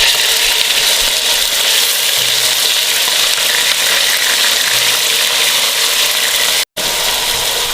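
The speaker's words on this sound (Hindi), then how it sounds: "ये देखें, वाइट होने तक थोड़ा सा इसको फ्राई करेंगे।" Julienne-cut chicken sizzles loudly in a pan of oil with light golden garlic, a steady close hiss and crackle that carries on without pause until a momentary dropout near the end.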